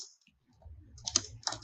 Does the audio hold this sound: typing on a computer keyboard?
yes